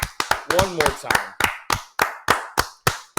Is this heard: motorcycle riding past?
no